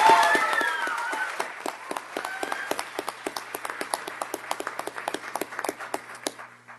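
Audience applause for school district classified staff champions at a board meeting: dense clapping that thins into scattered individual claps near the end, with a voice briefly audible at the start.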